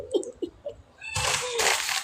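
A cat meows a few short times close by, followed by a louder, harsher caterwaul, with a little background noise.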